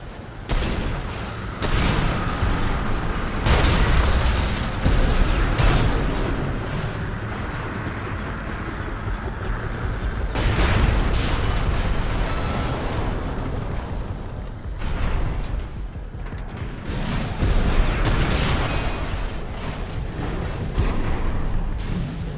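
Cannon turrets firing with explosions in the mech game Armored Core 6, loud repeated heavy blasts and rumbling impacts over constant mechanical clatter, with no talking.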